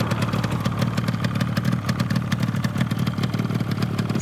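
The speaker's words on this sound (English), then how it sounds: "See lovely paintwork, really quiet, smooth engine." A restored 1983 Yamaha RD250LC motorcycle idles close by, its engine giving a steady rapid clattering pulse that stays even and unbroken throughout.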